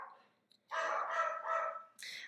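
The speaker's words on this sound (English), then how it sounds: "They're just saying hello. Saying hello to the world around them. Barking at someone's here," Dogs bark indoors in a couple of close, loud bursts, a short yip followed by a longer double bark and one more sharp bark at the end.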